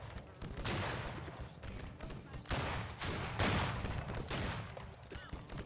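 Musket volleys crack out in the Civil War game Battle Cry of Freedom: several loud, ragged bursts of massed gunfire, roughly a second apart, over a constant din of distant battle.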